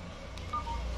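A DIZO Star 500 phone's keypad gives short, faint electronic tones during dialing. A couple of brief beeps sound in quick succession over a low background hum.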